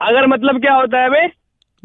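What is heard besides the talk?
No distinct noise like a dog, phone or traffic.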